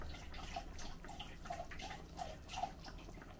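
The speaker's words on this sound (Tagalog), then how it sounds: "Habang ilalagay mo itong suka na konti" A little vinegar dribbles into pork blood while making dinuguan, giving a few faint, sparse drips and small splashes over a quiet background.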